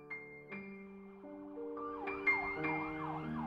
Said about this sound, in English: And again I hear the sound of sirens